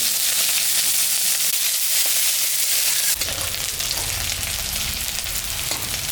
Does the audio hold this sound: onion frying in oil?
yes